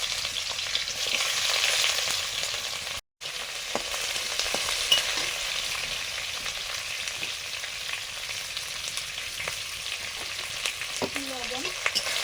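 Chopped onion frying in mustard oil, a continuous loud hiss with occasional utensil scrapes and a brief cut-out partway through, steady and close throughout.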